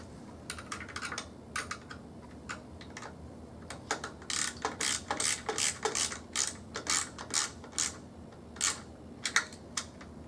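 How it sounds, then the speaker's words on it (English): Rapid ratchet clicks in bursts as battery terminal bolts on a wheelchair are tightened, loud and close with short pauses between runs of clicking and no talk. "And then you can go ahead and tighten everything down."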